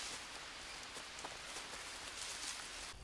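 Rain patters steadily on surfaces in a jungle survival video game, a soft, even hiss of falling drops heard alone at low volume.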